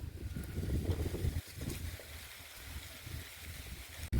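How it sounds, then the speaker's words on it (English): Strong wind buffets across an open farm field at harvest time, producing low, rumbling gusts against the microphone that surge and ease, loud at first and then somewhat steadier. "Sorry, it's very windy."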